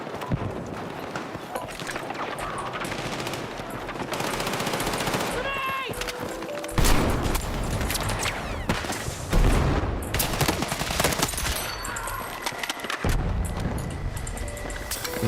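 Battlefield 6 gunfire, dense bursts of automatic fire and scattered shots layered over loud battle noise for the whole stretch, with talk mixed in.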